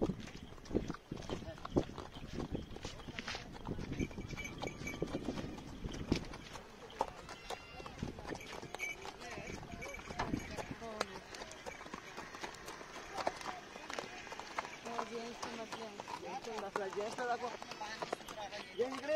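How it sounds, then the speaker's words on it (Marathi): A horse ridden at the Saputara hill picnic spot near Nashik. Scattered hoof clip-clops and knocks sound under frequent talking and outdoor chatter throughout. "अहो मी चालवतो घोडा."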